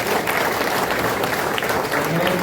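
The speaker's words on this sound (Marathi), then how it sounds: "आपण सगळ्यांनी एका जोरदार टाळ्या वाजवून" Audience applause at a public screening of a life-story video, a dense steady wash of clapping sustained throughout at full loudness.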